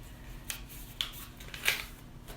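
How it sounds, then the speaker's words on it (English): Paper folded and creased by hand for a tiny book, three quiet crisp rustles and swipes spaced about half a second apart. "Crease it down, turn it over, flip it rather"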